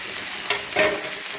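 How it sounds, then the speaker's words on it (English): Onions hit a hot pan while fried rice is being made, giving a brief crackling sizzle with a couple of sharp stirring scrapes. The sound is short and close. "we're going to add the onions"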